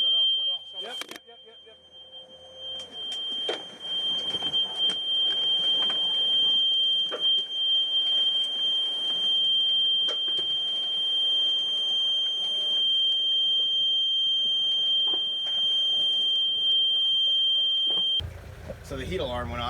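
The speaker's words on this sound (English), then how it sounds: "So the heat alarm went off, which is down here, I think." A steady, high-pitched heat alarm tone on a sailing boat sounds continuously for most of the clip, with scattered clatter and movement underneath, cutting off near the end.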